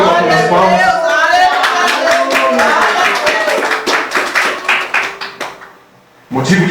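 A church congregation claps hands together in praise, a dense close patter of many hands that thins into scattered claps and stops, with voices speaking over the start.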